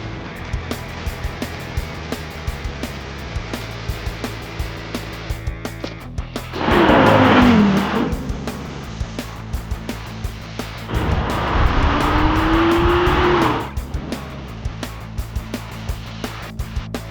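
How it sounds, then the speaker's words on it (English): Audi R8 GT Spider, a 2011 road car, roaring past in two loud swells as it accelerates, heard from outside against steady background noise, with no talk. "This is the Audi R8 GT Spider."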